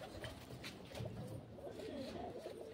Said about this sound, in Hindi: ये कबूतरी है भाई, मकोई है।